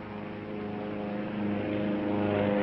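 Steady drone of a DC-3 twin propeller airplane towing a lightweight steel and plywood lifting body aloft, a continuous engine hum that swells gradually, with no voices.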